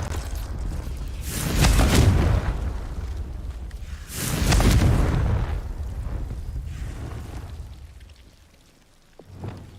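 Confringo fire-blast spell in Hogwarts Legacy, two loud booming explosions a few seconds apart, each swelling and fading with a rushing tail, followed by a softer rumble and a small pop.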